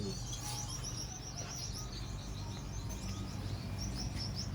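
Young Gouldian finches chirp in an aviary flight cage where they were bred. Dense, steady high tweets and calls repeat throughout over a constant low background hum.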